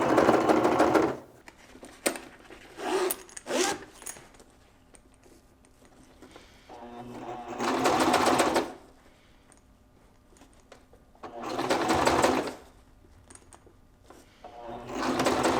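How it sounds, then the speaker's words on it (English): Sewing machine stitching a quarter-inch seam with back stitching in four-way stretch technical fabric, several bursts of rapid mechanical whirring of a few seconds each, separated by quiet pauses with small clicks and handling sounds. "we're going to sew it from always on the bottom. 1/4 inch seam allowance and back stitch."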